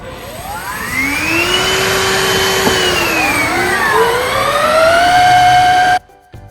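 A Shark HydroVac wet floor cleaner sitting in its dock runs its self-cleaning cycle, a loud close motor whine that swoops up and down in pitch like a siren before cutting off abruptly near the end.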